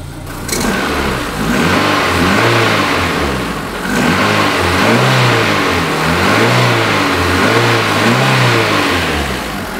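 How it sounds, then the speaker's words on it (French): A warm car engine with newly replaced ignition parts revs up and down in repeated swells, its loud rumble broken by small, uneven misfire stumbles. "même à chaud, il y a encore des petits ratés"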